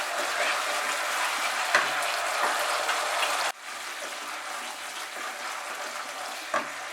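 Cabbage manchurian fries in a pan over high flame, giving a dense, continuous close sizzle that drops a little in level partway through, with a couple of faint spatula knocks.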